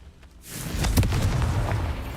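A Confringo fire spell explodes in Hogwarts Legacy with a sudden loud boom after a short quiet start. The blast is followed by a sustained roaring, crackling rumble that keeps going to the end.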